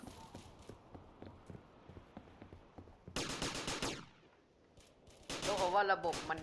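An M2 gun fires in a Roblox zombie game as quick repeated shots, first light and rhythmic, then two loud dense bursts of rapid fire, with game sounds and a voice heard between.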